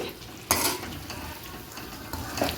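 Chicken with salt stirred in a pan over low heat: a quiet sizzle with one sharp metallic scrape early on and softer stirring after.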